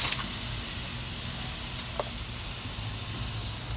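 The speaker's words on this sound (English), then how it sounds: "that fat coming off and being burnt off, but it's also being burnt into the meat" Meat in Yoshida marinade sizzling loudly as fat burns off, a constant close hiss of frying with small pops and crackles, no voices.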